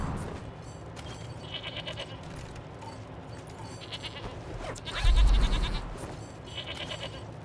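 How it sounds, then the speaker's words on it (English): Goats bleat in the video game Wasteland 3, wavering calls repeating at intervals over a steady ambient bed, with a brief heavy thump midway. "Goddamn goats!"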